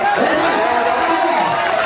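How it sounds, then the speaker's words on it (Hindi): Crowd of farmers at an open-air poetry gathering on the Ghazipur border, a loud mix of clapping, cheers and shouting that swells and holds, with voices in the throng. "एक बार फिर पढ़ो तो तालियां बजाओ मेरी जान"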